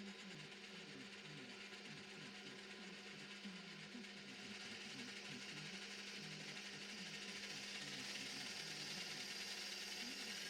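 A Scheppach DP50 digital bench drill press motor runs steadily at its lowest speed setting, a constant faint whirring hum with a fine rhythmic flutter and no pauses.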